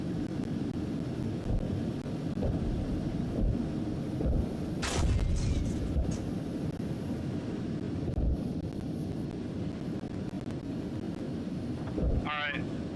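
Tank cannon fire in a tank combat game against Abrams tanks, heavy booms standing out over a steady rumbling engine bed, with a voice talking over it.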